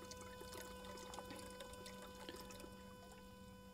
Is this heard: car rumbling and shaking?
no